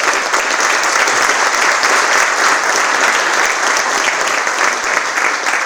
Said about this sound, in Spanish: un aplauso allá para Walter.